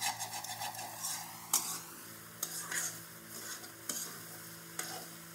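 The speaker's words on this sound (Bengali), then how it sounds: "ভালো করে একটু ভেজে নেব।" Bamboo shoot stir-fried in a pan gives a soft, continuous sizzle, broken by several sharp scrapes and knocks of a spatula against the metal.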